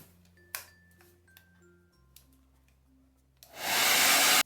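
After a few light taps and handling noises, a hair dryer switches on and blows loudly and steadily to dry napkin decoupage on an MDF box.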